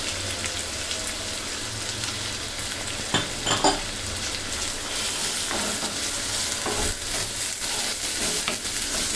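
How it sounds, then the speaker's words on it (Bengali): Onion, ginger and garlic paste frying in a pan for restaurant-style chicken bhuna, a steady close sizzle with stirring scrapes and a few louder bursts partway through. "এখন এই মশলাগুলিকেও কিছুক্ষণ 2 মিনিটের মতন ভুনে নিতে হবে"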